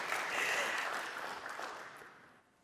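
Audience applause at a Microsoft Teams tech conference session, a dense wash of clapping that holds steady and then tapers off toward the end.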